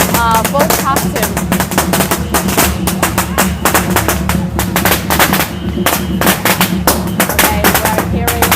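Strings of firecrackers burst in quick, loud volleys at a Fujian temple procession for Spring Festival, popping continuously over parade music and a murmuring crowd.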